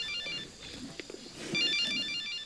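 A telephone rings in a French TV movie, repeated electronic ring bursts sounding at moderate volume over quiet room ambience with faint movement.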